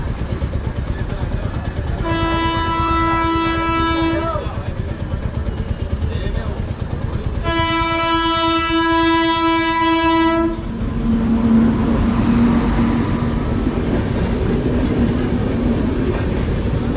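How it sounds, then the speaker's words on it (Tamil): Train horn sounds twice in long blasts over the continuous rumble and clatter of a passing train in Madhya Pradesh, India, loud and nearby. "வருது போல இருக்கு ட்ரெயின்"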